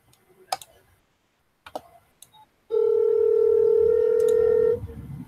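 Telephone sounds come from a call participant's end over an online video hangout: a few scattered clicks and knocks, then a loud, steady, two-second electronic tone that stops, followed by faint background noise.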